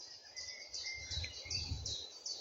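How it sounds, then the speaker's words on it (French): Birds singing in the woods during a walk: repeated high chirps and short trills come at a steady pace over a soft low rumble of the surroundings, with no one talking. "avec comme fond le chant des oiseaux"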